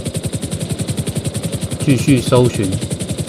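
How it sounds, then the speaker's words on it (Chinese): Helicopter in GTA Online with a steady rhythmic rotor chop under continuous talk from a player, the chop running through the whole stretch. "现在在将直升机移动到饭店的"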